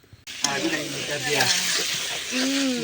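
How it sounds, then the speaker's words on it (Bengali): Meat being sautéed in a pot on a clay stove at night, a steady close sizzle and frying hiss that starts abruptly and continues under a person talking. "সেই কষানো হচ্ছে মাংস"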